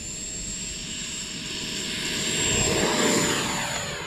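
An FMS Viper RC jet, 15th anniversary edition, takes off from a grass field with takeoff flaps set. Its steady, whining turbine-fan roar builds louder through the middle and then eases slightly, with no voices.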